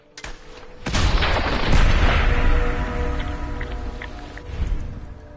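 A gunshot in the Fallout 4 video game on a Far Harbor survival run, a sharp loud crack followed by a long rumbling tail and softer echoing impacts that fade out.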